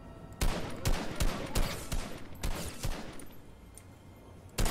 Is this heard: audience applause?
no